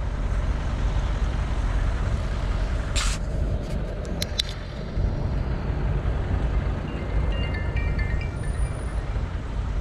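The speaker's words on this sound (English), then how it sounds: "Engine running noisily." A car's engine runs noisily in road traffic, a loud, continuous low rumble and road roar, with a few brief high electronic beeps partway through.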